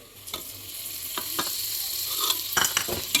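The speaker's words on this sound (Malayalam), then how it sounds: "തക്കാളിയും കൂടെ ഇട്ട് നന്നായിട്ട് ഇളക്കണം." Chopped tomatoes stirred into frying onion masala in a pan with chicken, a continuous sizzle broken by several sharp scraping strokes of the spoon, growing busier toward the end.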